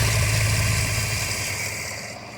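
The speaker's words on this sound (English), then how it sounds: "You can hear the engine's running great." A 2019 Chevy Tahoe SUV engine idles smoothly with a low, even hum, close by and steady, fading slightly toward the end.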